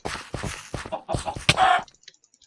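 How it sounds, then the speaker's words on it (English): A chicken in Wynncraft, a Minecraft server, clucks in a rapid string of short, close, clipped calls, ending in a brief squawk and then quiet. "Here, we can kill this chicken for sure."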